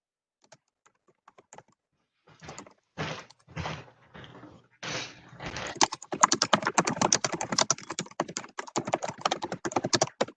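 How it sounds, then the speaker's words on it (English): Someone types on a computer keyboard, starting with a few scattered taps and heavier clacks, then settling into a rapid, continuous run of close keystrokes. "I'm going to be typing in the answer to the second one"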